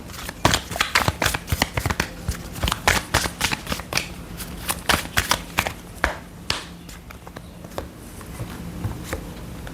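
Oracle cards being shuffled by hand, a rapid run of crisp riffling snaps and flutters in irregular bursts, close and fairly quiet, with no talk.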